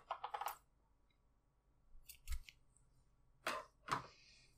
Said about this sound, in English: The next thing I want to do is cut the yarn.